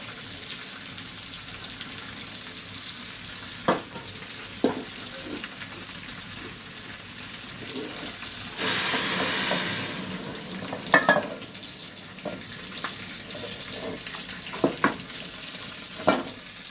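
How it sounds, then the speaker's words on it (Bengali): Rice frying in a pan for shahi paneer pulao sizzles steadily, then hisses loudly for a moment as hot water is poured in, with a few clinks of stirring afterward. "আমি কিন্তু গরম জলটা ওতে দিয়ে দিচ্ছি।"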